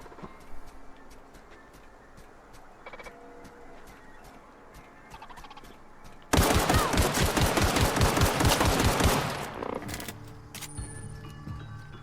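Gunfire in The Outer Worlds: after a quiet stretch with scattered small clicks, a loud burst of rapid shots erupts, runs for about three seconds, then stops abruptly.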